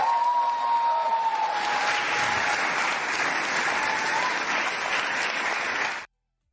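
Recorded applause from a large crowd with some cheering plays back steadily for about six seconds, dense and even, then cuts off abruptly to silence.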